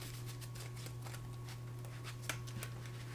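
Soft riffling and snapping of a deck of cards being shuffled close by, over a steady low hum, with no talking.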